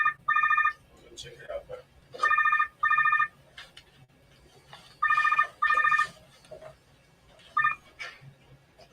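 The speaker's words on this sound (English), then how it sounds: "It's the phone." A cell phone rings in repeated short electronic double bursts, clear and close, with pauses between rings while people talk casually nearby.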